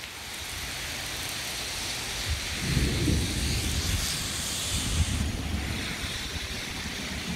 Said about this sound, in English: All I really hear is thunder.